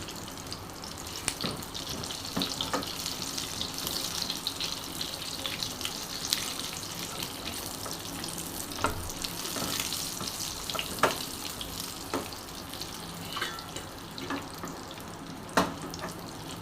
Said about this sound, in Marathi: व्यवस्थित याला भाजून घ्यायचं बारीक गॅसवरती.